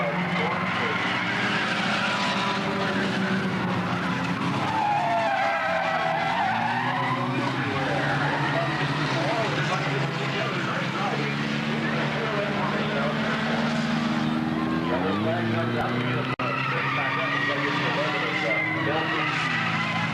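Race cars roar around the Sunshine Speedway oval during a Halloween 2000 event, a dense continuous engine drone with pitch sweeping up and down as cars pass, loud and unbroken throughout.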